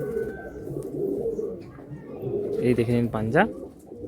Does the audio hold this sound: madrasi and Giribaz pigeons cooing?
yes